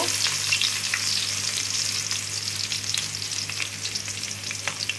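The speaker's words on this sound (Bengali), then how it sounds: "আমি এখন বেরেস্তার জন্য কিছু পেঁয়াজ ভেজে নেব।" Sliced onions fry in oil in a kadai for biryani birista, giving a loud, continuous crackling sizzle dotted with sharp pops and stirring clicks, no talk heard.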